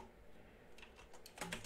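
Keys on a computer keyboard tapped in a short, quick burst near the end, close and faint, following a second or so of quiet room tone, with no talking.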